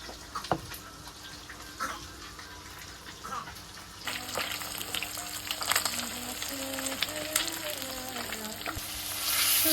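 Fish frying in oil in a pan, nearly charred and being flipped, gives a steady close sizzle with utensil scrapes and clatter, and a voice is heard briefly over it.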